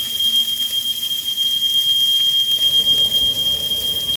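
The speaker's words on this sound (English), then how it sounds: "So I just had the fire alarm go off for some reason." Smoke alarm sounding in a home kitchen while steak cooks, a thin continuous high-pitched beeping tone running steadily under low background noise.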